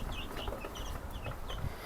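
Baby chicks in a brooder box give repeated high, thin peeping chirps over a soft rustling background.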